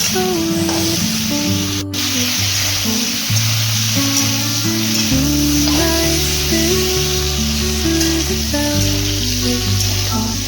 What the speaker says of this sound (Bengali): ভালো করে নাড়াচাড়া করে ভালো করে ভেজে নিতে হবে।